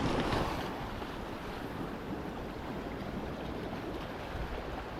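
Sea water splashes and surges around an angler fishing on the shore, a loud, steady wash of surf and wind noise with a stronger burst at the start.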